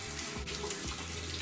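Tap water runs steadily into a sink as it warms up, a close, constant hiss and splash with no breaks.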